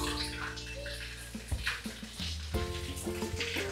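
Water flows continuously into a temple pond, a steady splashing gush with brief irregular drops and surges, heard close.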